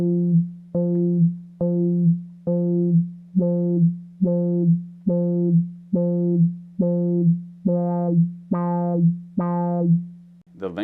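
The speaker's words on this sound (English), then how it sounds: "what you hear is the envelope being re-triggered at the speed of the LFO" A Roland SH-01A synthesizer plays one sustained low tone whose envelope is re-triggered by the LFO, giving a steady train of about a dozen evenly spaced, buzzy plucked pulses, growing brighter toward the end.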